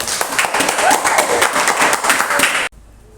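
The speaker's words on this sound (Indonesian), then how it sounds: "Tepuk tangan." A classroom of people claps together in a dense, steady round of applause that runs for a few seconds and then cuts off abruptly into near silence.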